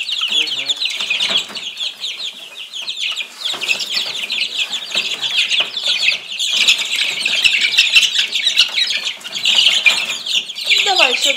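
Chickens in a poultry yard cluck and squawk continuously in a busy overlapping chorus with bursts of wing flapping, close by, while people talk quietly at moments.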